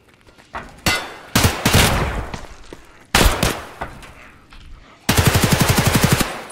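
Gunfire in Escape from Tarkov during a zombie-infested lab raid: scattered loud single shots with ringing tails, then a rapid, evenly spaced automatic burst at the end, close and sharp, with no talk.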